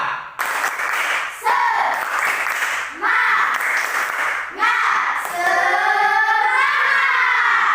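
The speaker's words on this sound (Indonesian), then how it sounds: "silakan berdiri untuk melakukan tepuk semangat" Schoolchildren standing to perform the tepuk semangat spirit clap on a rainy morning, loud rhythmic group clapping in bursts, ending in a sustained stretch of children's chanting voices.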